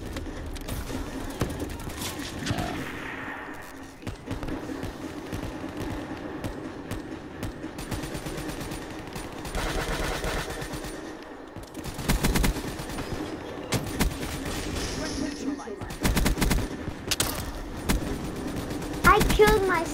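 Steady weapon fire and game action in Call of Duty Black Ops III, with repeated shots and bursts running throughout, mixed with a player's voice and other in-game noise.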